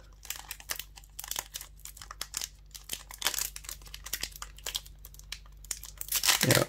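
Crinkly foil wrapper of a Pokémon Vivid Voltage trading card pack being torn and crumpled up close, with sharp rustling bursts and a faint low hum underneath.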